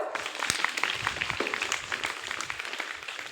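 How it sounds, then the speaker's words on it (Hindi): Schoolchildren in a class quiz competition clap for the winners, a lively, uneven burst of many hands close by that carries on across the whole stretch. "जोरदार तालियां बजाओ"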